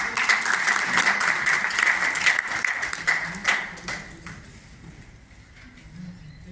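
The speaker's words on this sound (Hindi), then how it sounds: "बहुत जोरदार तालियों के साथ" Audience at a Green Army event in Vrindavan Hall, Raipur, clapping loudly at first, then thinning and fading into quieter room sound with a few scattered claps.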